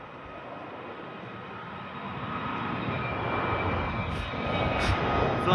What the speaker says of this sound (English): Listen to the A321neo.